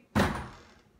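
A door bangs shut with one loud, close slam that rings out and fades over about a second, with no talking.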